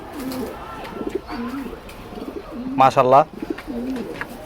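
Sapchila breed pigeons coo in a home loft, a short burst of rolling coos rising clearly midway under intermittent nearby talk.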